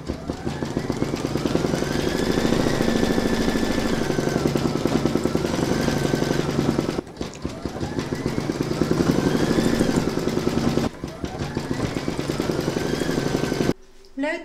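A home embroidery machine stitches an in-the-hoop poinsettia bunting design, its needle hammering in a fast, steady mechanical clatter with a motor hum underneath, pausing briefly a few times before running on.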